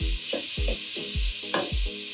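Soup ingredients with thyme, fenugreek seeds and pepper being stirred in a pot for a Romanian winter soup: five quick rhythmic scraping strokes over a constant loud sizzle.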